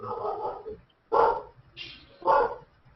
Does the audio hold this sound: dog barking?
yes